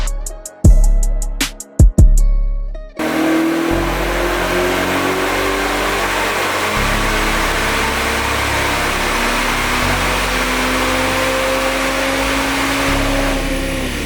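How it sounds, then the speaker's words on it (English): A Ferrari SF90 on a dyno run: a few sharp clicks and a short blip first, then a loud, sustained engine roar as it climbs steadily in pitch under load, close and continuous with no talk. "right now I am putting the SF90 in dyno mode so we are able to dyno it."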